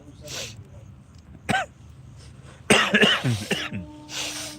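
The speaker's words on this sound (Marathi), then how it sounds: "या वर्षीचा खोकला जाईन" A couple of sharp coughs from a winter cold burst out close by, with a voice talking in between and after them.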